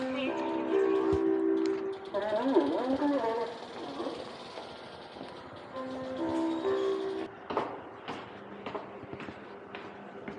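Interior of a Seoul-area metro train on the Yangsu route with a rider bringing a bicycle aboard, rumbling and squealing steadily as it runs, with a brief rising whine and rattles, under faint background voices.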